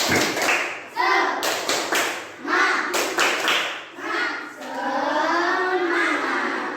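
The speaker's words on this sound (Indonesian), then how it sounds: "Tepuk semangat." Children in an Indonesian fourth-grade classroom perform a rhythmic spirit clap, bursts of claps and taps in a patterned sequence mixed with their chanting voices, ending in a longer run of sustained clapping.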